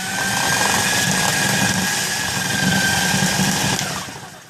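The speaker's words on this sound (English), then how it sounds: "Now let's see if an uneven coconut gets shredded." Electric coconut shredder grating an uneven coconut, a loud steady motor whine with a rough scraping grind, close up, holding evenly for a few seconds before tapering off.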